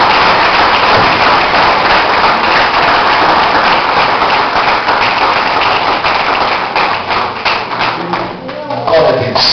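Church congregation claps loudly and continuously during an evening worship service, a dense close wash of hands that thins slightly near the end, with voices mixed in.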